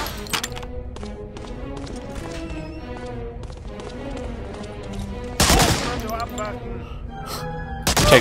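Gunfire in the World War II shooter Medal of Honor: Allied Assault, with steady shots and bursts under ongoing talk, then a louder blast near the middle and another sharp shot at the end.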